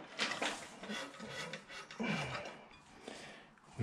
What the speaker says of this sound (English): we'll just push them through so that they can go down to that socket position